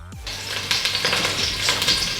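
Garlic cloves fry in hot oil for pasta alfredo, giving a steady bright sizzle with crackles and pops. Brief clatters of stirring come through, and no one speaks.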